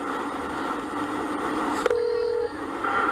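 Phone tones while dialing 911 from inside a car on the road: a brief click, then a steady electronic tone, a pause and another tone starting, all over constant road and engine rumble.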